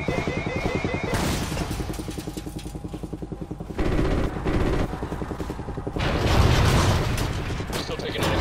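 Anti-aircraft fire in Call of Duty Ghosts sounds as rapid, rattling bursts of heavy gunfire with mechanical clatter. They come in loud waves with brief lulls, mixed with dense game-combat noise and radio-style voices.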